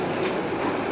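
A city-bound line 30 tram in Budapest rumbles past in the background, a steady, continuous rail and wheel noise with no speech.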